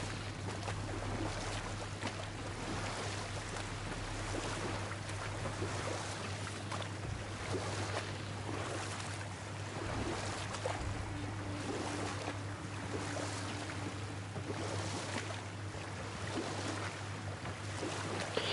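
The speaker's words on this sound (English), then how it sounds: "I'm just over here swimming, paddling around the waterway." Rhythmic paddle strokes pull a boat through a waterway in God of War, with regular splashes and lapping water over a low steady hum.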